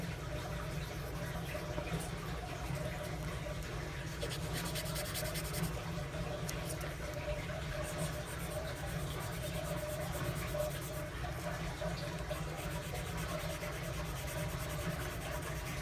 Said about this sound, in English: you don't have to put a lot of pressure on the sandpaper